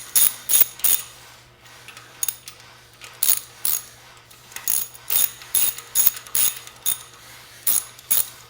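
Ratchet tightening thermostat housing bolts on a Saturn engine, rapid bursts of metallic clicking repeated in quick runs with short pauses, close and crisp, no talk.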